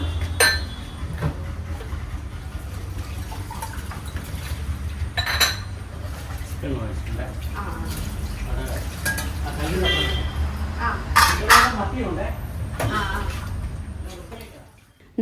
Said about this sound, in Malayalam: അതുകൊണ്ടാണ് ഞാൻ മെനക്കെട്ട് വേഗം പാത്രം കഴുകുന്നത്.